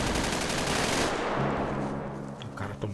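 Dense, rapid automatic gunfire from the video game GTA 5 rattles continuously for about a second, then fades into a duller, sustained din.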